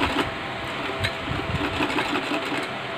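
Close, steady sewing machine whir with rapid needle ticking, stitching along a kurti neckline, running continuously and fairly loud.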